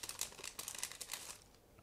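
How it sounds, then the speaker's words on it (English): A plastic bag holding clear parts for the rear section of an ICM 1/72 scale model kit is opened, giving a close burst of dry crinkling and rustling that fades away near the end. "So here we have another new, let's say, plastic bag with clear parts for the rear section. So let's open it."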